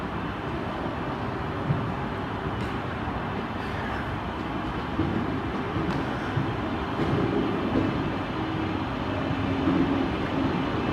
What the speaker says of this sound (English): 323226 from the Northern Railway service terminating from Manchester Piccadilly